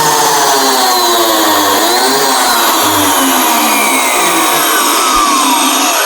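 A plunge-cutting circular saw sinks its blade slowly into a workpiece, a loud steady high whine with a shifting pitch as the cut goes on, running alone with no talking.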